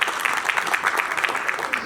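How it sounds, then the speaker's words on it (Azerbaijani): A forum audience at an agribusiness event applauds to welcome a speaker, with brisk, fairly close clapping holding steady for a couple of seconds. "Buyurun. Alqışlarınızla."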